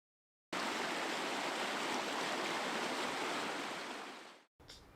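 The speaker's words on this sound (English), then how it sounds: "The dam is gone and the river is running free" A river runs freely where a dam has been removed, giving a loud, continuous rushing of water that fades away near the end, cuts out briefly and then returns more quietly.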